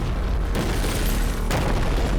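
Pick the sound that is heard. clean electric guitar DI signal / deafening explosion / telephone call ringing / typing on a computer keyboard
deafening explosion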